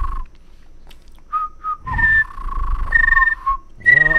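A person whistles while rolling R's to imitate a bird trill, giving a few short whistled notes and then longer warbling trills, loud and close, with no talk over them.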